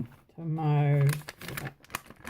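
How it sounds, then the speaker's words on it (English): A brief held vocal tone, then soft crinkly rustling of B6 Stalogy notebook pages being handled, close and fairly quiet. "Hear that? It sounds like Miss Reader paper."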